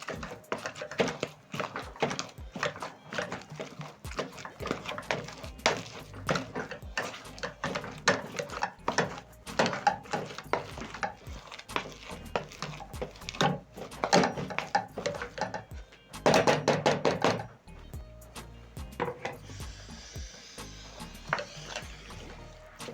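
Green bananas with seasoned carrots and onions being mashed in a pot: repeated soft, irregular thuds and scrapes of a utensil against the pot, with a brief clatter near the end, no talking.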